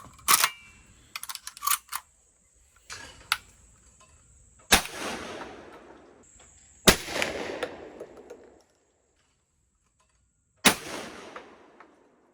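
A light dove-hunting shotgun fires Federal game load 1165 shells outdoors, four sharp, loud blasts spaced several seconds apart, each with a rolling tail, and between them come the clicks and clacks of the action being worked.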